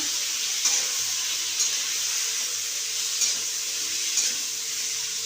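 A tangra fish curry with bottle gourd fries in a pan with turmeric and salt, giving off a steady, even sizzle with a few soft clicks and no voices.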